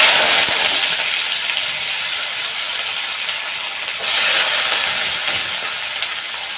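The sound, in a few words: onion and garlic frying in pan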